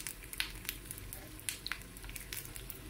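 Dried fish frying in a pan, with a soft steady sizzle and scattered sharp pops and crackles of hot oil, fairly quiet and close, with no voices.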